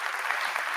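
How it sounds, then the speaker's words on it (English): A brief burst of audience clapping at a TEDx San Antonio compassion salon, a dense, steady patter of many hands held at an even level through the short moment, with no voices over it. "If you're happy and you know it, clap your hands."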